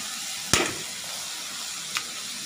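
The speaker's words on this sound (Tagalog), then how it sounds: "Halo lang ng halo para" Food fries in a pan under a quiet, steady sizzle while a utensil stirs it, giving a sharp scrape or clink early on and a softer one later, close and without voices.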